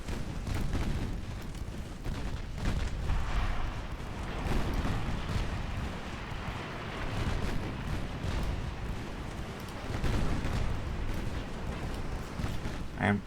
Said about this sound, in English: And fire torpedoes.